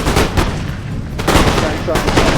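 Musket volleys and artillery fire crack and boom in a video game battle between French, Austrian and Spanish-Dutch armies, with dense overlapping shots and sharp bursts close by, loud throughout.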